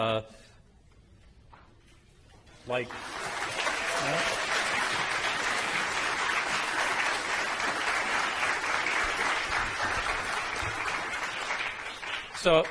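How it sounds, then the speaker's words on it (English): A synagogue congregation at a European music Shabbat service breaks into sustained, dense applause that fills the room for about ten seconds after a brief quiet stretch, ending with a few louder claps. "So the clapping is good."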